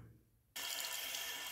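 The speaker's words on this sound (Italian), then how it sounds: "la ciotola Fenix, gli ho messo un po' d'acqua" Water is poured into a Fenix shaving bowl in a quiet room. After a short near-silent start, a steady rushing splash begins abruptly and continues at an even level to the end.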